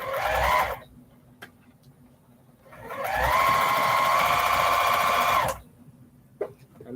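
Sewing machine stitching down a 2.5 inch quilt binding strip in two bursts, a short run followed after a pause by a longer steady whirring run, loud and close with no talk.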